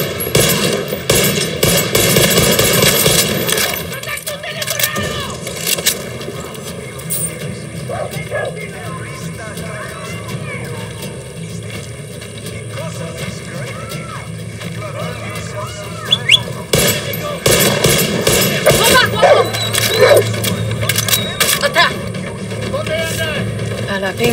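Gunfire in Far Cry 6 crackles in bursts at the start and again near the end, loud and close, mixed with engine and boat-like rumble, with voices talking between the volleys.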